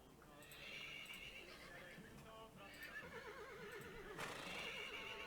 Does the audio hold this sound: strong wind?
no